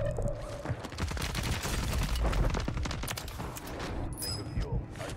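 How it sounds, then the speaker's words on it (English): Rapid gunfire crackles in Call of Duty Warzone on Rebirth Island, a dense barrage of sharp overlapping shots from close and mid range, continuous with brief pauses near the end. "Fire shotgun."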